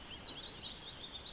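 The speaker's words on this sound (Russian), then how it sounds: "Птицы поют." Several short, high bird chirps repeat in quick succession over a soft background hiss of light rain, in a forest near a river at night.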